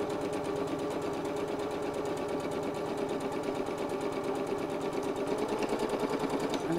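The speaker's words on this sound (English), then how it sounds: "I'm going to sew backwards there a few stitches, lift my foot up, move the fabric across" A sewing machine stitches fabric around a curve with a fast, even mechanical chatter, loud and close and running continuously.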